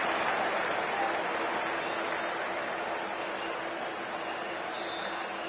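A stadium crowd cheers and applauds a big hit in the video game Cricket 24 during a Pakistan vs Bangladesh World Cup match, a broad continuous roar that swells at first and slowly eases, with no talking.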